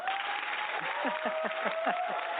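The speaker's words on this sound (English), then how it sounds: "let's give her a big round of applause" A studio audience applauds a guest doctor on a home talk show. The clapping is steady and fairly close, with a sustained tone and faint vocal sounds under it.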